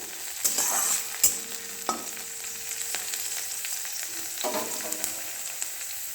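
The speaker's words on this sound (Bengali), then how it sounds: "বিনসগুলো ভাজা হচ্ছে।" Beans fry in a hot pan for fried rice, giving a steady close sizzle broken by sharp scraping clacks as a spatula stirs them several times at irregular intervals.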